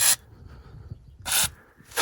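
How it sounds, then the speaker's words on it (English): Penetrating oil sprayed from an aerosol can onto rusty front strut bolts and nuts of a Chevy Malibu, two short sharp hissing bursts separated by quiet handling noises. "I've got some penetrating oil, and I'm going to spray a couple bolts and nuts"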